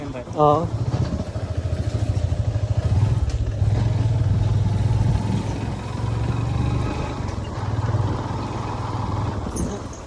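A motorcycle engine drones steadily up close, its low rumble holding for several seconds before easing slightly toward the end.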